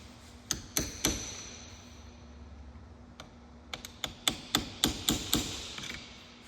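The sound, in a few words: striking a cold cut punch on a stuck CV axle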